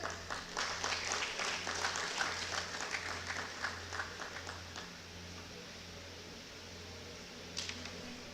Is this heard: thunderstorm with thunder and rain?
no